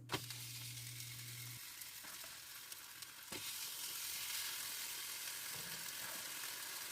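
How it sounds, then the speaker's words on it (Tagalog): Burger patties sizzle on an oiled griddle with a soft, continuous crackling hiss that stays fairly even, with a few faint clicks and no voices. "Pagkatapos pahiran ng oil ang griddle ay ilagay na ang burger patties."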